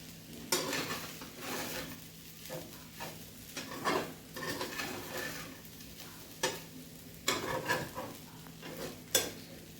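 Sabudana khichadi stirred in a pan with repeated scraping and clinking of a utensil against the metal, over a soft sizzle; close and moderately loud, with no talking.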